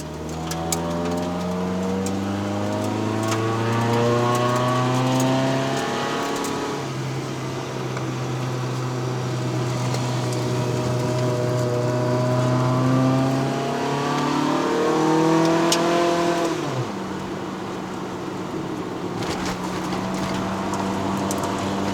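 A 1997 Toyota Corolla 1.6L AE111 engine drones steadily under load while climbing the road to Genting in Malaysia, its pitch rising and falling through gear changes, heard close from inside the cabin.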